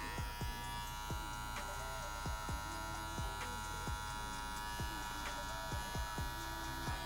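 Electric hair clippers set to zero buzz steadily while cutting a graduation line for a crop top fade, a constant close hum broken by regular soft strokes against the hair.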